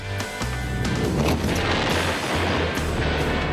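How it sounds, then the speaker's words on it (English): A porta-potty blown up in an explosion: a loud, sustained roaring blast with heavy low rumble filling the whole stretch, heard alone without talk. "We have explosion!"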